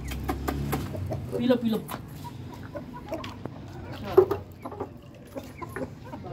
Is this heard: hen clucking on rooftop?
yes